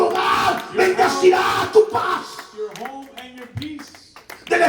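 A church congregation claps and shouts in praise during a sermon, a loud burst of hands and cheering that fades as a voice calls out over it.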